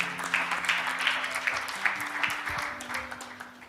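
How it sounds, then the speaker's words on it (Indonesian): Guests at a wedding clap in a moderate, uneven patter of applause, somewhat distant, with a faint tonal hum from music or sound system beneath. "Kita tepuk tangan yang meriah."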